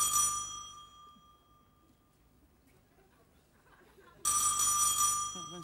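A telephone rings loudly in a Swedish drama, one burst of ringing, a quiet pause of about three seconds, then a second burst starting.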